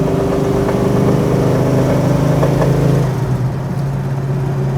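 A 1970 Chevrolet Chevelle SS with a 454 engine accelerating toward about 60 mph, its loud, close V8 drone climbing steadily before easing off near the end.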